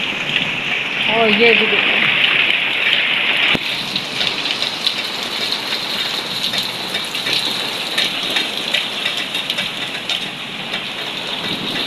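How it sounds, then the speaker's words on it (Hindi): Heavy stormy rain pours down at night as a loud, steady, unbroken hiss and roar. A voice speaks briefly near the start, and the downpour keeps going without a break. "रात का टाइम है और इस कदर तूफानी बारिश हो रही है ना"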